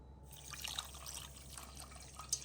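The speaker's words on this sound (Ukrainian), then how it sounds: "Це все заливаємо двома 2 літри води." Water trickles and splashes into a pot over sugar and salt for a zucchini marinade brine, a soft, close pouring with small drips, alone and fairly quiet.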